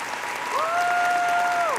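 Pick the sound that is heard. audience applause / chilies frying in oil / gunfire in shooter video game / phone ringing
audience applause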